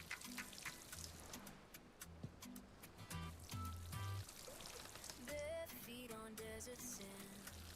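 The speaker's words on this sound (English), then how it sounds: "Let's water everything." In the video game Collectors Cove, a watering can sprinkles plants, soft trickling and pouring splashes mixed with scattered game chimes and interface tones, fairly quiet.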